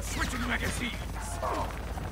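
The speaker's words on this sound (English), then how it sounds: "Switching magazines." Magazine reload in the video game Call of Duty, faint mechanical clicks and rattles of the weapon under steady game noise and low voices.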